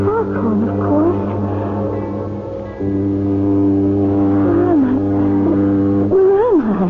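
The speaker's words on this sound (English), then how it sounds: "It's a foghorn, of course." Foghorn sound effect in a 1978 radio mystery drama: a steady, deep droning horn, sustained in two long blasts. A voice is heard speaking or moaning over it.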